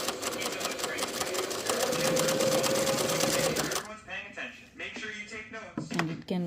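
Pfaff 360 heavy-duty German-made sewing machine running fast with a loud, steady whirring stitch for about four seconds, then stopping as a person talks over the quieter tail.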